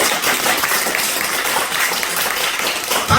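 A church congregation at a revival meeting breaks into dense, sustained applause, many hands clapping together for a few seconds with no pause.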